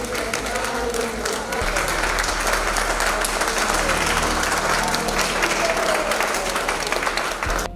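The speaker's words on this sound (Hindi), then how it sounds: "सभी डॉक्टरों ने और नर्सिंग स्टाफ ने वैक्सीन का ताली और पुष्प वर्षा से स्वागत किया" Doctors and nursing staff applaud at a hospital to welcome the arrival of a Corona vaccine, with sustained group clapping running steadily throughout, dense and fairly close, while voices murmur underneath.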